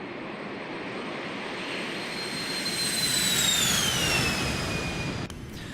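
Citation X business jet engines roaring during the climb after takeoff in X-Plane 12, a steady loud whine and rumble with a high tone sliding gradually downward, ending in a slight drop in level.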